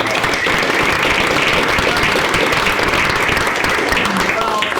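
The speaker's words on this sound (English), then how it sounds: "Phyllis and Andy, give them another round of applause." An audience at a leader dinner presentation claps loudly and steadily for about five seconds, a dense, continuous wash of hands with some crowd murmur mixed in.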